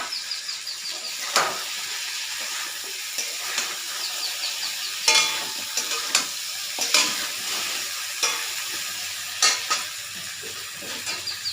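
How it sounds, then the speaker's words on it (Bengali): A fish head frying in cooked spice masala gives off a bright, steady sizzle, with regular loud scrapes of a spoon stirring the pan close by. "এবার আমি মাছের মাথাটা দিয়ে দিলাম।"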